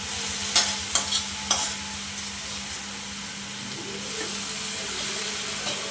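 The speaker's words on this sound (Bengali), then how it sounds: "এবার শাকগুলো তেলের ভিতরে দিয়ে রসুন পেঁয়াজের সাথে সুন্দর করে নাড়াচাড়া করে ভেজে নেব।" Red amaranth leaves stir-fried in hot oil with garlic and onion give a steady sizzle, with a few sharp scrape or clatter hits near the start and continuous frying hiss throughout.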